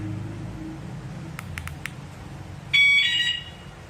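A few quick electronic chirps sound, then a loud warbling siren-like motorcycle security alarm on a Yamaha R15 VVA blares briefly over low background rumble.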